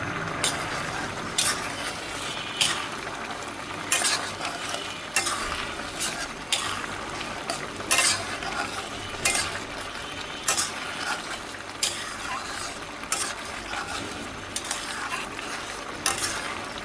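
Mashkalai dal khichuri is stirred and fried in a pot: a spoon scrapes the pot in regular strokes about every second, over a steady sizzle, close and fairly loud, with no voices.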